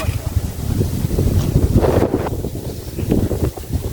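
Loud, gusty wind buffets the microphone in a continuous low roar, rising and falling with the gusts.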